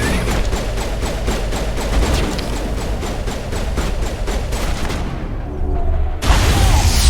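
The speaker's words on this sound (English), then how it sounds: "First time I ever used the shotgun." Rapid gunfire bursts from a shotgun in Mass Effect Legendary Edition, loud repeated blasts in a steady pulsing rhythm, then a short lull and a heavy closing boom.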